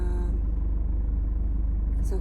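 Car moving off in first gear as the clutch is eased out and throttle applied, a steady low engine rumble running throughout at close range, loud and continuous with a brief brighter noise near the end.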